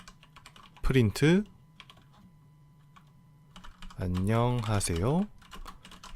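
Keys clatter on a computer keyboard as a Python print command is typed into PowerShell, with faint, quick clicks in the gaps between two stretches of close speech.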